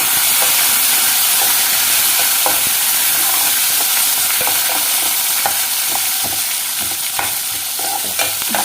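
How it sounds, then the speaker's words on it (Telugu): A loud, steady sizzle of egg and okra curry frying in a pan with onions and curry leaves, joined by repeated scraping and clinking stirring strokes throughout, with no talk. "ఇది వేగనిద్దాం. కొంచెం వేగనిచ్చిన తర్వాత మనం బెండకాయలు వేసేసుకుందామండి."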